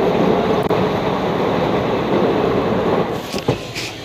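A passenger train on the Rishikesh to Bilaspur route rumbles steadily with a loud, continuous roar of wheels on track near Roorkee station, easing slightly toward the end with a few brief clanks.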